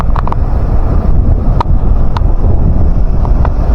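Loud, steady wind roars across the microphone without letup during a summer hail storm in the Czech Republic, with a few faint clicks and knocks scattered through the rumble.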